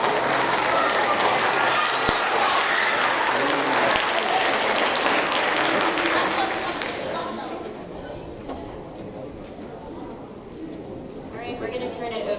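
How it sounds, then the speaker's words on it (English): Sustained applause from a large audience at a 7th grade school awards ceremony fills the room, then gradually thins out to scattered clapping and murmuring voices. "one more round of applause"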